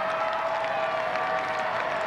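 Steady crowd applause and cheering in a stadium at a women's college softball game between Oklahoma and Houston, loud and continuous throughout.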